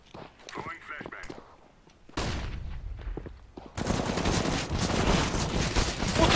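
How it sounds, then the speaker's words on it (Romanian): A flashbang grenade goes off in Counter-Strike on de_dust2: gunfire and footsteps, then a sudden loud burst that drops into a sustained harsh, wide-band hiss and ringing that stays loud to the end. "Flashbang!"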